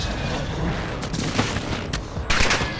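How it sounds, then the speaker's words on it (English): Incoming gunfire in a military shooter game, with several sharp cracks and a dense burst near the end rising over continuous battlefield noise. "You are taking effective fire."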